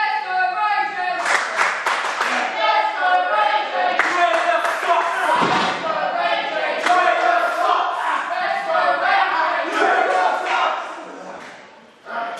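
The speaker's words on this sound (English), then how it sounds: "The crowd are really getting behind Vicious and Buffalicious." A wrestling crowd at a live independent show cheers and claps continuously, a loud, dense roar of voices with scattered rhythmic clapping filling the whole stretch before briefly dipping at the end.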